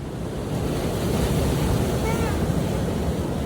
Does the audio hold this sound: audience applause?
no